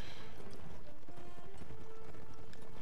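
Horse hooves gallop in Mount & Blade Warband, a rapid, continuous clip-clop of several horses running close and loud through a battle.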